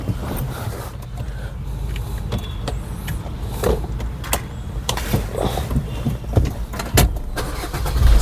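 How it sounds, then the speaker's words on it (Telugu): A Maruti Suzuki diesel car, an Ertiga VDI or S-Cross Zeta, cranks and starts on a single turn of the starter, then settles into a steady close-up engine rumble with a few small clicks and no speech. "సింగిల్ సెల్ఫ్లో వెహికల్ స్టార్ట్ అయిపోతుందండి"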